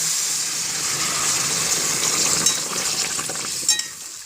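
Cumin seeds and bay leaves hit hot oil as tempering for a cauliflower, potato and rohu fish curry, a close, even sizzling hiss throughout with a couple of light clinks near the end.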